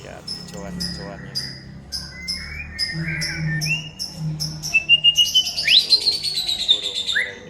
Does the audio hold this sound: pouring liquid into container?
no